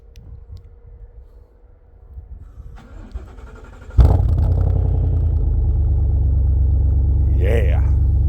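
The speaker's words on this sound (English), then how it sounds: "Let's do a cold start." A personal and company truck is cold-started on a snowy day: cranking then a sudden loud catch at four seconds, settling into a steady, close idle with a brief rev near the end, and faint talk before the start.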